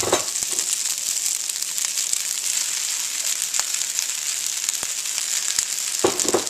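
Chicken, rice and vegetables hiss and sizzle steadily in a hot stir-fry pan, a loud continuous frying crackle broken by occasional clicks of stirring.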